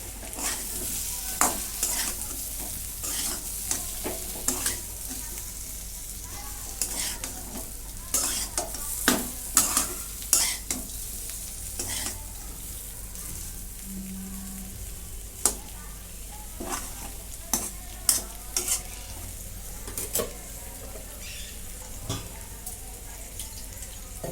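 Masala stirred through bitter gourd in a hot pan: a continuous sizzle broken by frequent sharp scrapes and taps of a spoon, steady and close, with no voice over it.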